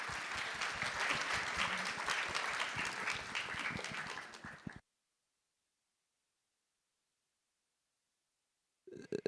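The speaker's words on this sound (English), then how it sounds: "give a big round of applause to our great speakers today" Audience applause for conference speakers at an investing talk: a dense, loud burst of clapping lasting about five seconds before cutting to silence.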